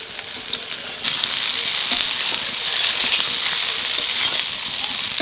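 Eggplant frying in hot oil for a fish curry, a steady dense sizzle with crackling pops, fairly loud and continuous throughout.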